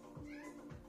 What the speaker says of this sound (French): le chat il est trempé